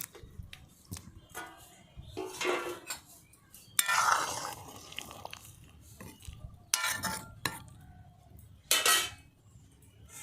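Cut pumpkin being mixed with salt by hand in a metal bowl, giving intermittent clinks, scrapes and soft stirring bursts at close range, with quiet gaps between them.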